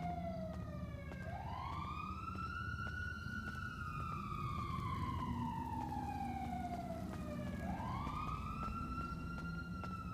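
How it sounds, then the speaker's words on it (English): Police sirens wail in GTA NoPixel roleplay, a steady rising-and-falling electronic siren sweeping twice over a constant low traffic rumble, moderately loud and continuous throughout. "There has been non-stop sirens."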